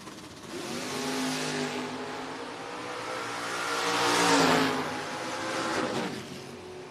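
A drag race car makes a pass at the FRBR Independence Showdown, its engine roaring loud and steady across the track, surging and peaking mid-run before easing off. Any stumble in the engine note is hard to pick out.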